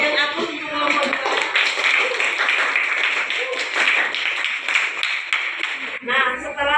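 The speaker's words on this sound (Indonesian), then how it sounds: "kita berikan aplaus untuk kelompok 2" An Indonesian classroom audience applauds after group 2 finishes its presentation, a steady patter of hand claps lasting several seconds under and between a woman's speech, fairly close and loud.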